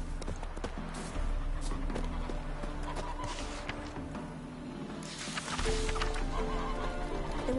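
Roach, a horse in The Witcher 3, neighs loudly amid clip-clopping hooves, with whinnies rising over a steady game soundscape.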